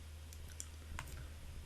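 A few light, crisp clicks of a computer mouse, spaced irregularly and close, against a low steady hum.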